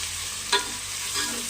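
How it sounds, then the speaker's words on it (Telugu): Onions and tomatoes fry in a pan with a constant close sizzle, broken by two short scraping stirs of a spoon against the pan. "మినిట్స్ వరకు ఫ్రై చేసేద్దాము"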